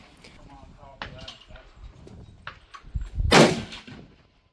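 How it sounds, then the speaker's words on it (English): A single loud, close 340 Weatherby rifle shot cracks out near the end, its roar trailing off quickly, after a stretch of quiet murmuring voices and faint handling noises. "this is your first time shooting a 340 Weatherby"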